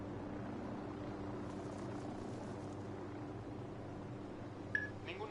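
A patrolling helicopter in Ghost Recon Wildlands gives a steady, low rotor drone that runs throughout at moderate level, with a brief electronic beep near the end.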